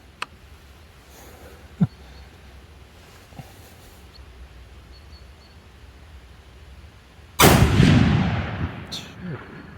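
A Savage 110 Ultralight rifle in 6.5 PRC with a carbon barrel fires a single loud, sharp shot late in the stretch, followed by a brief decaying echo, with faint clicks and handling noises before it.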